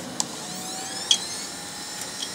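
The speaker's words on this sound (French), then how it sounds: "Donc les deux ventilos fonctionnent déjà." A PC's two cooling fans run steadily, a constant whirring hum with a few faint clicks on top and no voices.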